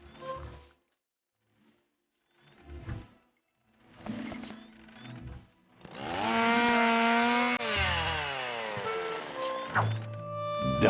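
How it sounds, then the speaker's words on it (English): A gasoline chainsaw running on high-proof alcohol in the adventure game Edna and Harvey: Harvey's New Eyes: scattered knocks and thunks, then the saw roars up loud and steady with shifting, revving pitch. "High-proof alcohol was an excellent fuel substitute for the gasoline chainsaw."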